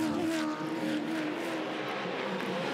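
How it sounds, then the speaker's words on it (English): Helicopter camera flying over the hill above the Bathurst 1000 Supercars race in 2023, a steady droning engine hum with racing cars roaring faintly beneath, continuous and moderately loud without talk. "View from the Century Batteries chopper cam over the top of the hill for the first time, Whincup."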